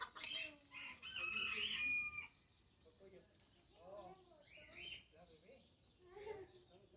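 Chickens cluck and a rooster crows briefly in an aviary amid close, lively chatter from people talking over the birds.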